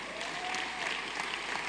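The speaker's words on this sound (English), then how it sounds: "Let's give him a round of applause." Audience applause at an international family planning conference, a brief dense patter of clapping from a crowd, steady and fairly faint.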